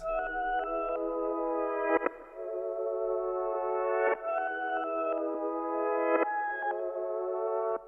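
Reversed chopped chord sections in a lo-fi hip hop beat made in Ableton Live: four swelling reversed segments, each building and then snapping off abruptly, clear and alone without talk.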